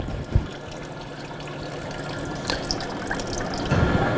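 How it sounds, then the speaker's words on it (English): Sanitizer drains from an Electro Freeze 5099 soft-serve machine with the pump running, giving a steady wet trickle with a few drips and splashes, fairly close, no talking. "we're going to drain as much of the sanitizer out as possible"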